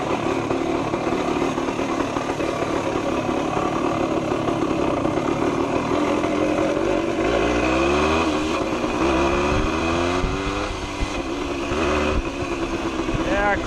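A 1975 Yamaha DT125B two-stroke motorcycle with a sticking clutch sputters into life and keeps running, buzzing loud and steady close by, with its pitch rising and falling as the throttle opens, and some speech over it.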